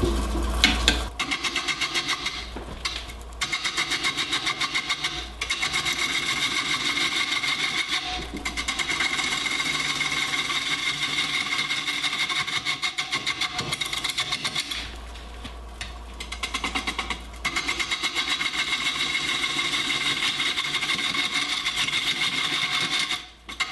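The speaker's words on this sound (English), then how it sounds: "I'm just going to use a bowl gouge and work on the rim here" Wood lathe spinning a wall vase at slow speed while a bowl gouge cuts the rim, giving a steady scraping rasp broken by brief pauses, close and fairly quiet with no talking.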